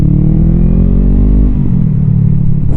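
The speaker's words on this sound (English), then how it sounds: "Listen to that exhaust." A loud, deep 2020 Honda Rebel 500 exhaust roars steadily as the motorcycle accelerates to 40 mph, the harmonic pitch rising gradually throughout.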